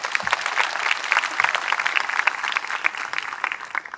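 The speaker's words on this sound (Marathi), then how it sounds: "एकदा सगळ्या तरुणांकरता जोरात टाळ्या वाजव" An audience at a live interview in Mumbai gives loud, dense applause for the young people, a steady rattle of many hands clapping with no break.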